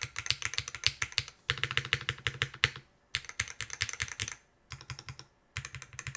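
Fingers type on a Haven60 mechanical keyboard with a metallic ringing resonance, producing rapid, close clacking keystrokes in bursts separated by brief pauses, with no voices.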